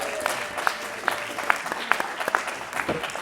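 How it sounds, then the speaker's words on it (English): An audience at a Senate District 31 candidate forum gives a short round of applause, a scattering of distinct claps that rise and fall unevenly over a few seconds, moderately close and fairly light. "So can we have a round of applause"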